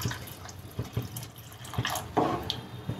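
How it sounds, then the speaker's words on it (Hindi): Water being poured into thick sambar in a cooking pot, a splashing, trickling flow with small irregular bursts and drips, close and moderately loud. "अब इसमें हम पानी ऐड कर लेते हैं।"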